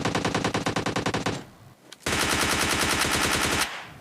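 Rapid automatic gunfire in the mobile shooter PUBG Mobile Lite, two loud close bursts of rhythmic shots separated by a short pause, with no talk over them.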